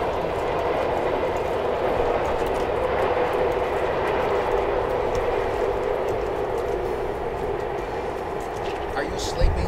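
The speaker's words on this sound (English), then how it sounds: "Looks like we have a MARTA train that's going by." A MARTA train passes near an open area of a city cemetery, a continuous loud rumble and rolling roar with faint clatter, with people talking underneath.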